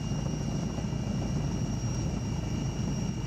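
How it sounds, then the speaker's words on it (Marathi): A helicopter flying over flood-hit Uttarakhand after a cloudburst, a steady low rotor and engine drone that stays constant and moderately loud throughout, with no voices. "पुष्कर सिंह धामी हे हेलिकॉप्टरद्वारे पाहणी करत आहेत"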